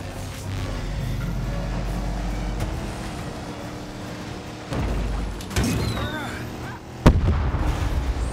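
Rapid-fire weapon shots crackle in the racing combat game Cars 3 Driven to Win, loud repeated bursts over roaring engines and mechanical clatter, with a sharp blast near the end.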